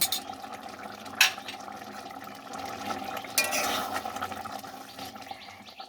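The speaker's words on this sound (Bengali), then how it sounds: "এবার আমি এক চামচ ঘি দিয়ে দেব ঘি দিয়ে একটু নাড়াচাড়া করে নামিয়ে নেব" Pumpkin chhakka cooking in a pan with a spoon of ghee is stirred, with soft low sizzling, a couple of sharper scrapes and a muffled bubbling underneath at moderate level.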